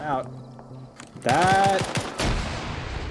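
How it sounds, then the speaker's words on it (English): Grenade tossed into a building during a team shooter video game match, with sharp gunfire-like blasts and a loud burst of impact noise amid overlapping commentator voices. "Grenade going in, though"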